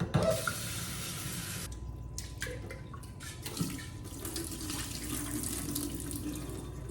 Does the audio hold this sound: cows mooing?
no